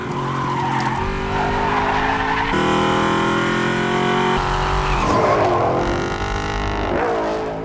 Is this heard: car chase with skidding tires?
yes